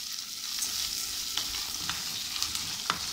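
Rice being stir-fried in a hot pan, a steady sizzle and crackle with scattered clinks of a utensil against the metal, close and continuous with no talking.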